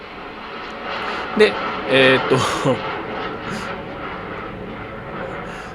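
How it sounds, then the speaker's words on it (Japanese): An airplane flies close overhead, a steady broad roar running under the whole stretch while someone briefly speaks. "今飛行機がめっちゃ近く飛んでわーっと音がしたんですけど"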